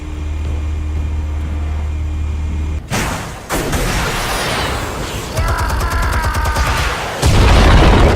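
Explosives detonate in Batman: The Telltale Series: after a low steady hum, a loud boom breaks in, followed by rumbling blasts and crackling bursts, with a further heavy impact near the end.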